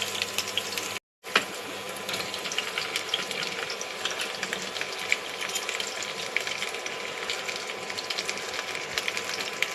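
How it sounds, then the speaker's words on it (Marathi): Green chilies frying in hot oil on a home stove, a steady close crackling sizzle with fine rapid pops throughout, briefly cut to silence near the start, no voices. "तेलामध्ये मिरची परतली"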